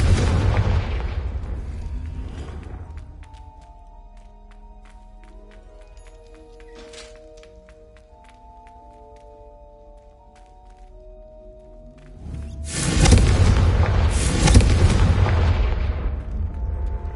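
In the Hogwarts Legacy video game, the Confringo spell's explosion hits with a loud booming burst that decays into a ringing tonal tail, then a second heavy blast erupts and rumbles on.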